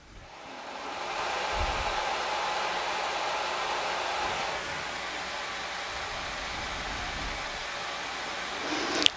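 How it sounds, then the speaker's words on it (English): A bathroom exhaust fan switches on and runs as a steady, broadband whoosh, captured by a Fifine wireless microphone that is not pointed toward it. The noise holds constant at moderate loudness, with a brief knock at the very end. "So now I'm going into the bathroom and I try to turn the fan on."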